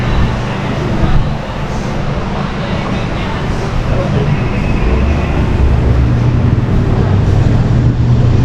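A Donzi motorboat pulls away from a marina, its engine a steady low drone with broadband wash throughout, rising slightly near the end, while voices are heard over it.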